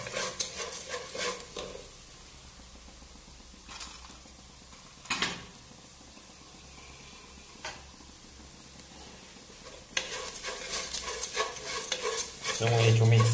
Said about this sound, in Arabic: So we need to mix all together so that we have the flavor.